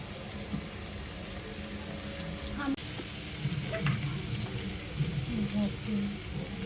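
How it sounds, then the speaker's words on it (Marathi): Tomatoes and onions fry in a pan for chicken biryani, a soft continuous sizzle with scattered crackles and a few stirring knocks, moderately quiet throughout. "टमाटो कांदा भाजून घ्यायचा आहे लालसर होईपर्यंत"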